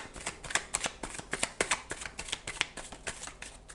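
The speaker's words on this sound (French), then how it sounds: "je mélange un petit peu les cartes" Tarot cards are shuffled by hand in a quick run of soft, papery riffles and slaps, close and fairly quiet, with no talking.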